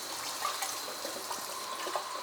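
Water poured into a pot of rice (two cups rice, four cups water) before it goes into a rice cooker, a steady soft splashing stream with no talk.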